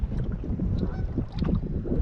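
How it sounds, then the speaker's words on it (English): Geese honk on Loch Ard, a Scottish loch in the Trossachs, heard from a canoe: several close, loud honks in quick irregular bursts over a soft wind and water background. "Don't mind the company of the geese."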